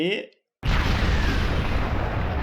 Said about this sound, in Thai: อาเดระเบิดเลยครับอาเด